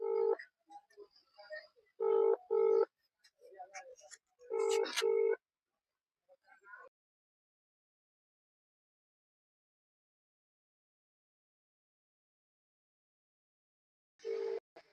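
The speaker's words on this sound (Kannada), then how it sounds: "ಸೊ ಫೋನ್ ರಿಂಗ್ ಆಗ್ತಿದೆ." Outgoing phone call ringing on a loudspeaker: short tonal bursts spaced by gaps, then a long silence before another burst near the end, all thin and slightly distant.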